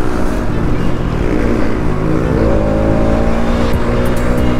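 Yamaha MT15 and Pulsar RS200 motorcycles racing through traffic, a steady loud engine drone with revving and passing vehicle noise throughout, no talk.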